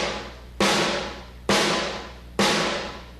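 Three fat, booming snare drum hits struck in the center with the butt end of the stick, away from the rim. Each hit has a hard attack and a long ringing decay, evenly spaced and heard alone.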